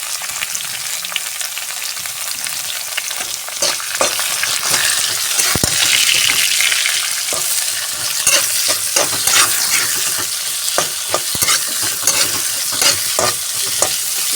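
Onion and green chilli fry in a pan for a spinach palya, giving a steady, fairly loud sizzle broken by frequent scraping stir strokes; no one speaks.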